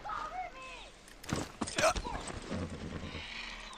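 Horse hooves clop and a horse whinnies in Far Cry 6, a short burst of close hoofbeats with a neigh, and a voice speaking briefly alongside.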